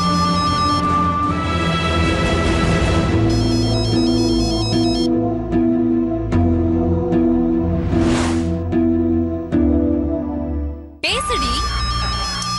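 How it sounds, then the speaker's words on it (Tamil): Phone ringtone playing for an incoming call, a loud steady melodic tone with sustained harmonics running almost the whole time, briefly shifting near the end, under background music in a Tamil TV serial scene. "கதிர் தாண்டி போன் பண்றான்"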